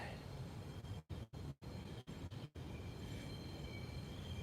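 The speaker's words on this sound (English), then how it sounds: "Here's my train." A subway train rolls into a Brooklyn station with a continuous rumbling roar, broken by several brief sharp dips in the noise, heard close by as it arrives.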